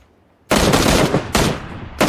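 Gunfire in the battle royale game PUBG erupts suddenly after a brief quiet, in loud, dense bursts of rapid automatic shots with a short pause between volleys, close and dominant.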